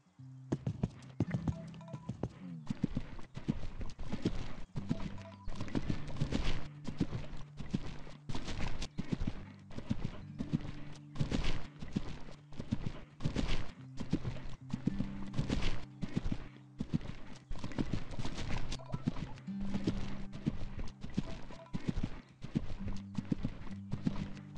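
Horse hooves cantering in Equestrian The Game: a steady, rhythmic clip-clop of hoofbeats on firm ground runs throughout, moderately close, over a low droning background tone.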